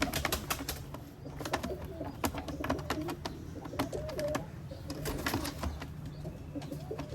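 Teddy pigeons coo repeatedly in soft, throaty phrases, close and fairly loud, with occasional sharp clicks and light rustling mixed in.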